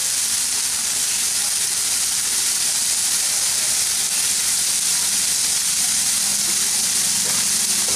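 Minced chicken keema with lemon juice sizzles and fries steadily in a pan while being stirred, a continuous bright hiss with faint scraping underneath, close and even throughout.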